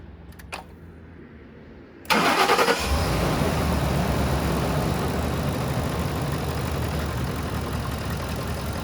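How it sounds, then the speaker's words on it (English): A car engine cranks and starts for an Amsoil engine flush, with a brief click first, then a loud catch that settles into a steady, even idle close by. "I'm gonna run idle this thing for 15 minutes, exactly what Amsoil wants me to do."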